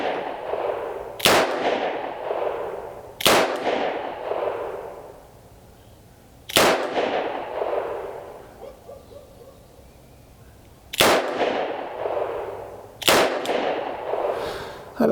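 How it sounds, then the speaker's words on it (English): Henry Big Boy revolver fired double action with .38 Special rounds at a steel target 15 yards away on an outdoor range: five sharp, loud shots, each with a ringing, decaying echo, spaced a few seconds apart. "let's take 6 shots, 38 special, steel target 15 yards away, and see how it does"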